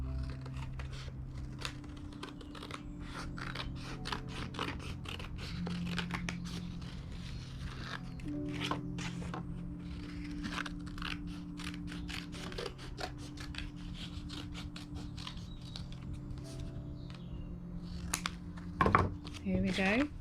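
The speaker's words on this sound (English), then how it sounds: "So let's cut this shape out." Scissors snip through paper while a bunny-ear shape for a puppet is cut out, giving a steady series of close, crisp cuts with faint rustling over a low hum and quiet talk.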